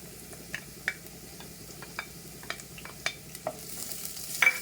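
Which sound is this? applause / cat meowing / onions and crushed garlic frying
onions and crushed garlic frying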